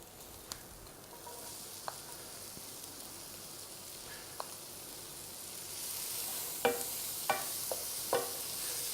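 Capsicum frying for chilli con carne with garlic, a soft steady sizzle in the pan as it is stirred, with a handful of sharp clacks of the utensil growing louder toward the end.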